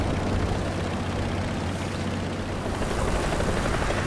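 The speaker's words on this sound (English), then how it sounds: "I killed the chopper behind cover." A helicopter in the War Thunder video game drones steadily with a dense rotor and engine roar that fills the whole clip, loud and continuous with no speech.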